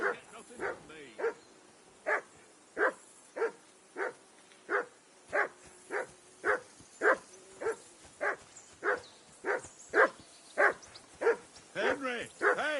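A dog in the video game Kingdom Come: Deliverance 2 barks over and over in a steady, evenly spaced run of sharp yaps, clear and fairly close, with a few whimpering yips at the end.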